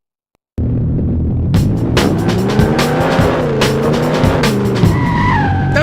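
An Aston Martin DB5 in the video game 007 Racing drives with a steady engine drone while tires squeal and skid in repeated bursts, loud and close.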